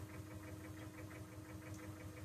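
A small two-cylinder tractor engine in Farming Simulator 17 chugs steadily with a regular knocking pulse, idling close by with a low rumbling hum and no voices.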